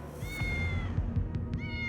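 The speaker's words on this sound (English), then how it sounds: "We heard a cat mewing, but there was no cat anywhere around." A cat meows in a long, drawn-out call, close and clear over a low background hum, with a few faint soft taps after it.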